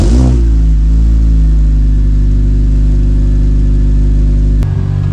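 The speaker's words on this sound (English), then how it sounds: "I got that little bit of VTC startup rattle" An Acura TSX with a tuned engine idles loudly at close range with a steady low drone, and a brief rough startup rattle from the VTC at the very beginning before the hum cuts out near the end.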